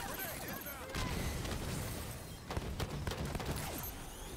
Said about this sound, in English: That was a lot of explosions